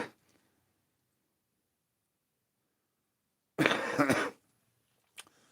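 One harsh, close cough breaks a near-silent stretch, followed moments later by a much fainter short cough.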